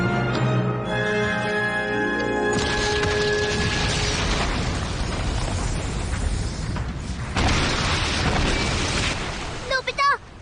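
A cartoon explosion in a Doraemon episode, a sustained broadband rumble and blast that rolls on for several seconds over background music, ending in a few short pops and crackles.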